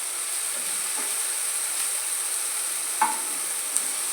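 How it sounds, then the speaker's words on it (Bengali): Ginger spice paste fries in hot oil as it is stirred, giving a steady close sizzle with a couple of brief spoon scrapes against the pan. "এবার পেস্টটা একটু আর একটু তেলে নাড়াচাড়া করে নিচ্ছি।"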